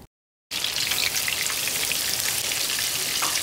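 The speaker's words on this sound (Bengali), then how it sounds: "এপিঠ ওপিঠ খুব ভালো করে ভেজে নিব।" Fish head and pieces, rubbed with turmeric and salt, frying in hot oil in a pan: a steady, loud crackling sizzle that starts abruptly after a brief silence and continues without talk.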